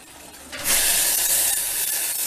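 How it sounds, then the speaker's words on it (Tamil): Water boiling in a pot on the stove for Chettinad paal kolukattai, a steady broadband bubbling hiss that swells up loudly after a quieter half-second start and then holds close and continuous. "எப்படி கொதிக்குதுன்னு பாருங்கள்."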